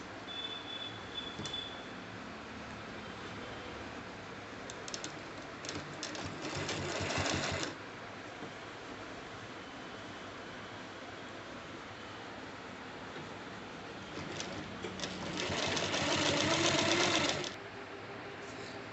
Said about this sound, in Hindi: जो सिलाई वाला भाग है वही हम कपड़े पे रख के सिलाई करेंगे।